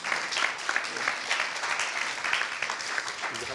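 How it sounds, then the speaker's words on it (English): An audience at a film distribution innovation hub event gives a round of applause: dense, steady clapping from many hands, moderately loud and continuous throughout, with no speech on top. "But let's hear a round of applause."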